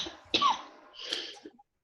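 Two or three close, breathy coughs from one person, a sharp burst followed by a rougher, throaty cough, trailing off into quiet.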